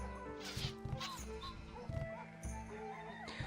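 A dog barks several times in short bursts over layered game music and effects, the barks fairly close and clear.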